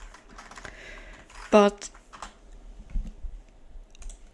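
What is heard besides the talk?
typing on a computer keyboard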